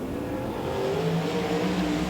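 Super sedan race cars thunder down the main straight at Moama Speedway during national title heats, a steady loud engine roar with rising harmonic whine as they pass close by.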